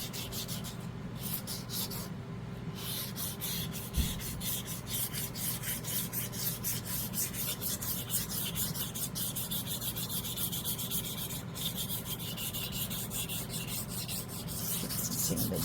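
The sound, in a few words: sanding resin edges with sandpaper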